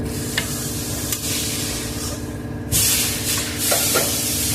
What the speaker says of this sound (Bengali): এখন আমি ভেজে রাখা মাছগুলো দিয়ে দেবো, দিয়ে কিছুক্ষণ ফুটিয়ে নেব।